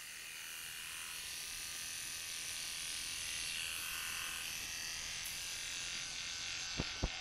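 A small electric trimmer cuts hair at a campsite, giving a faint, steady high-pitched buzz that runs throughout, ending with two brief clicks.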